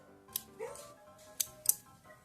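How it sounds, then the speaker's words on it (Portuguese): Scissors snip yarn for a crocheted amigurumi bunny, a couple of quick, sharp metallic cuts up close with faint handling noise between. "Posso cortar esse fio aqui."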